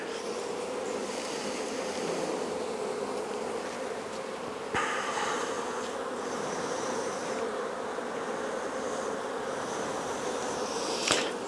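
Honey bees buzz steadily around an opened hive after a swarm, a dense close hum filling the whole stretch with a few brief clicks of handling and no talk.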